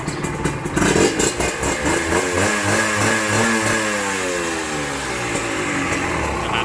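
A Honda NSR150 two-stroke motorcycle engine runs close by, with a rebuilt carburettor and valve system, a few quick revs at first, then settling into a steady, throbbing idle.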